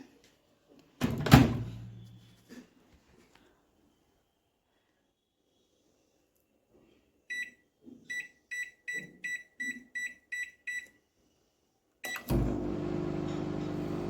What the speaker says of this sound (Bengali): এবার মাইক্রোওয়েভে দিলাম।